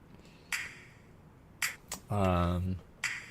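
A crisp, dry clap sample in a music track hits sparsely over a quiet background, with a brief hummed tone between them.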